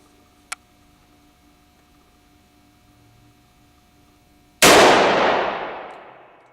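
One loud handgun shot from a Glock 21C or Rossi .38 fired at a target, a sharp close blast that rings out and decays over about two seconds, preceded by a faint click and a low steady hum.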